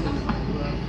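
A DLR light rail train near Canary Wharf rumbles along steadily, a low continuous roar of wheels and motor heard from inside the carriage.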